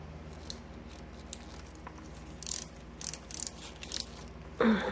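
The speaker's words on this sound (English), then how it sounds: "Take off this main center screw." A screwdriver works loose the main center screw on a 1920 Singer 127 sewing machine, giving quiet metallic clicks and grinding scrapes, with a louder rasp at the very end over a low room hum.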